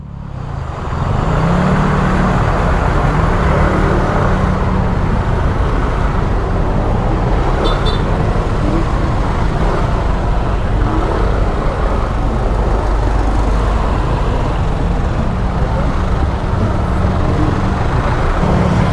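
Loud, continuous roar of evening rush-hour road traffic heard from a moving Yamaha Aerox 155 scooter at night, a dense, steady wash of engines and wind with no pauses.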